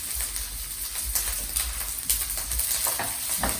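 Rice with garlic, chives and cilantro frying to a crispy bottom in a hot pan, a steady close sizzle and crackle with occasional stirring scrapes, no voices.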